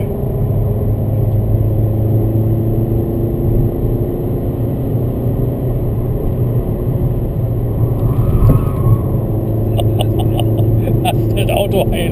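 Steady, loud rumble of a VW Golf 5 with a 2.0 TDI diesel engine lapping the Nürburgring Nordschleife, heard from inside the car with continuous road and engine drone and a brief knock near the end.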